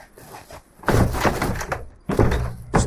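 A door with a rhinoceros-shaped handle slams shut indoors, giving two loud, close, heavy thuds about a second apart, each followed by a short rattling decay.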